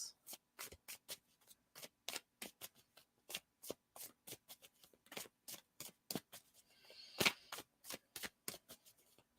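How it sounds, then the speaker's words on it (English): Rapid riffles of tarot cards being shuffled, a quick series of papery flutters and soft slaps, close and quiet with no talking. "So now let's shuffle again."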